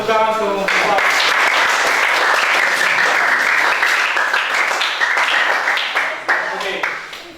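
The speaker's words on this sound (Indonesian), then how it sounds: "berikan tepuk tangan kelompok 4" Classroom applause for a student group after their presentation on food additives, a dense, steady burst of many hands clapping that holds for several seconds and thins out toward the end, with a voice briefly audible at the start.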